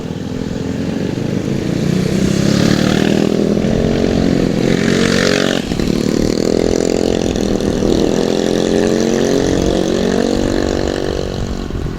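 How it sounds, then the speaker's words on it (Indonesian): Motorcycles ridden by touring clubs climb a mountain road toward Telomoyo, making a loud steady engine drone with rising and falling revs as bikes pass close by, continuous throughout with no talking. "banyak ini ya yang pada touring ya, pakai motor gitu, klub-klub motor."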